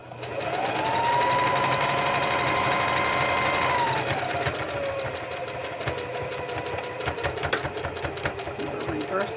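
A domestic sewing machine stitches an Easter apron, running a sustained whirring burst for a few seconds, then switching to a reverse stitch with choppier, rattling stop-start runs up close.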